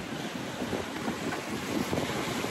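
Wind rushes steadily over a sailboat under sail at sea, holding about 40 degrees apparent wind. The roar is broad and continuous, with faint water wash beneath and no talk.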